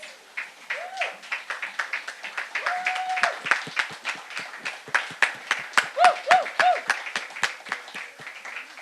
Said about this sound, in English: We would like you guys to stand so we can give them a round of applause, please.